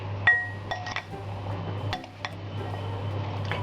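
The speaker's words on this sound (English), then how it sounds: "Mix all the ingredients properly." Sharp glassy clinks of a utensil against a glass bowl while mixing potato and eggplant with oil, several scattered taps over a low steady hum, with soft stirring noise between them.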